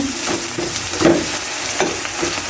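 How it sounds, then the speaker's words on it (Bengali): Onions sizzle and crackle in hot oil, with a few soft stirring scrapes rising over the steady frying noise. "পেঁয়াজগুলো লাল লাল করে ভেজে নিচ্ছে"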